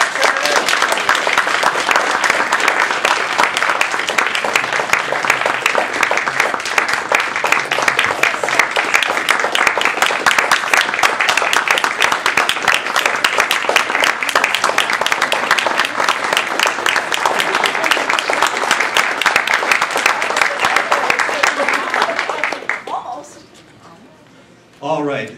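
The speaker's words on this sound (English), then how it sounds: "Can we please get a round of applause as they join me on stage?" Loud, sustained audience applause greets contestants walking onto the stage at a spring division speech contest, dense clapping running steadily before cutting off abruptly near the end, with brief speech after.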